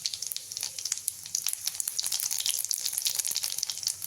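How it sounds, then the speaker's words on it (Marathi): Mustard and cumin seeds sizzling and crackling in hot oil in a pan, a close, steady frying hiss dotted with rapid small pops. "तेल तापले आपण थोडंसं अर्धा चमचा मोहरी टाकली ह्या चमच्याने थोडे जिरे टाकून घेऊ"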